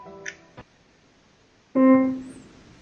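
A single short tonal note sounds briefly and decays quickly, preceded by a faint earlier note and a click.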